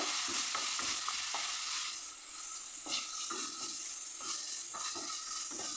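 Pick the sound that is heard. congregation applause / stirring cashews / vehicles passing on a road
stirring cashews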